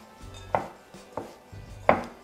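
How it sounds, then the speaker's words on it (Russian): Grated celery root salad being tossed with lemon juice in a bowl, four soft separate thuds and clinks of the utensil at an uneven pace, close and fairly quiet, no talking. "Перемешиваем"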